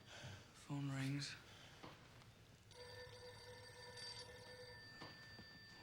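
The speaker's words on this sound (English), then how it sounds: "Phone rings." Telephone bell ringing indoors in a loud family scene, one brief ring sounding quietly under a voice and background noise.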